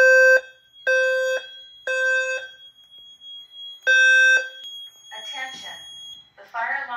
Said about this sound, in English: The fire alarm has been activated in the building.